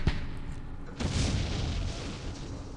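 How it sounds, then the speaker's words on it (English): Gunfire and explosions in the war strategy game Campaign Series Middle East, during a battle for Jerusalem: a sharp crack followed by a loud booming roll of distant artillery that rumbles on steadily without a break. "Just keeping low while the gunfire is going off."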